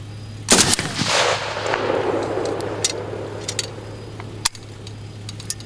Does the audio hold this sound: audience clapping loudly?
no